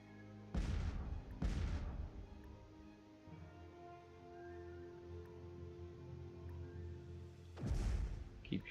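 Ships fire on enemy star bases in the space strategy game Master of Orion, giving three heavy booming weapon blasts, two close together at the start and one near the end, over a steady low electronic drone.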